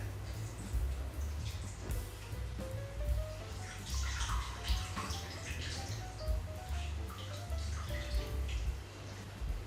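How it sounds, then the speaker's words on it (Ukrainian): Grated zucchini is wrung out by hand, giving faint, wet squelching and trickling sounds as juice drips and splashes, continuous and close. "Кабачок випустив дуже багато соку. Зараз я його буду віджимати руками."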